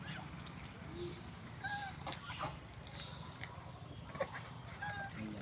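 Ducks in hot weather, offered a little water, give faint, scattered calls over a soft steady background, with a couple of thin higher cries standing out briefly.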